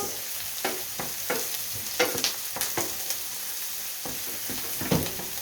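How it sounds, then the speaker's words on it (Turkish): Eggplant and meat stirred in a pan, with scraping strokes of a utensil at an irregular rhythm over a steady low sizzle, close and moderately loud, no voices. "etimle patlıcanımı koyacağım. Karıştıracağım."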